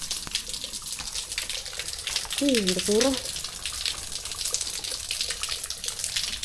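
Constant hissing water noise, like heavy dripping or a running stream, with a brief voice speaking partway through.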